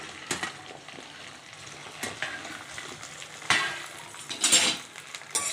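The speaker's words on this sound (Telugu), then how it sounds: "ఆయిల్ హీట్ అయ్యాక బెండకాయలు ఇందులో వేసుకొని ఫస్ట్ బెండకాయలని ఆయిల్లో ఫ్రై చేసుకోవాలి" Okra frying in hot oil for a yogurt curry, a soft steady sizzle with intermittent scraping and stirring clinks from a utensil in the pan, close and fairly quiet.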